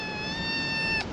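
A sick cat with coryza (cat flu) gives one drawn-out, nasal meow, close and fairly loud, ending abruptly, outdoors at a campsite in Morocco.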